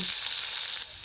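Green garlic sizzles in a spoonful of desi ghee for a tadka, a close, steady hiss of frying that fades slightly at the end.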